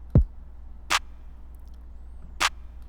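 Trap drum pattern programmed in FL Studio in a Zaytoven-style Detroit trap beat: a deep kick thump, then two sharp claps spaced about 1.5 seconds apart, loud and dry over near silence.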